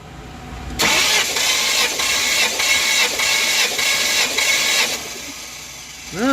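The engine of a 1994 convertible cranks over during a compression test, a loud rhythmic churning of the starter for about four seconds that stops abruptly, followed by a quieter tail.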